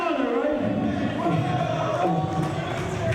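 A wrestling crowd at a Ring of Honor grudge match chants and cheers for Raven, a dense continuous roar of voices filling the arena while a commentator talks over it.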